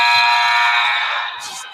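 A scorer's table buzzer at a men's college basketball game between Tuskegee and Spring Hill blares as a loud, sustained harmonic tone that slowly fades over nearly two seconds, with faint arena noise beneath.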